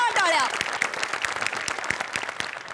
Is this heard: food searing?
no